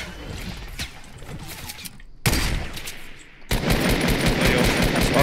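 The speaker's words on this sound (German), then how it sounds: "Junge, was für Schüsse." Fortnite Battle Royale gunfire crackles in dense, rapid bursts during a squad fight, loud and close, with a brief silent gap before heavier sustained shooting.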